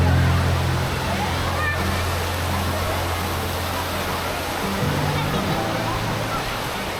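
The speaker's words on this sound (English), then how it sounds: "the Lazy River is a relaxing and gentle current around the aqua playground." Flowing water of the gentle lazy river current at the Lalandia Aquadome indoor water park, a steady broad wash with low rumble throughout, under a reverberant hall ambience.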